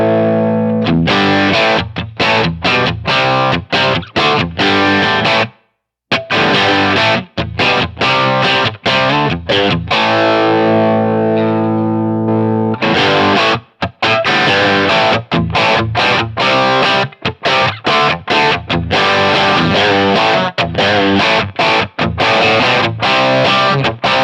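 Electric guitar runs through a Line 6 Helix Plexi Bright amp preset, loud, distorted chords struck in a rhythmic, chopping pattern with a brief pause and a held ringing section midway.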